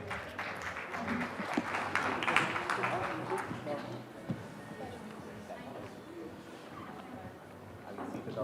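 Summit audience applause in a large hall, a diffuse wash of clapping that swells early and then fades to scattered claps and low chatter, heard fairly faint and distant.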